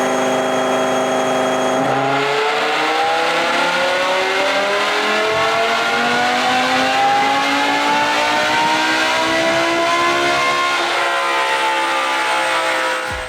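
A highly modified BMW E60 M5 roars through a full dyno pull, engine pitch sweeping steadily upward for several seconds, loud and close, then dropping off as the run ends.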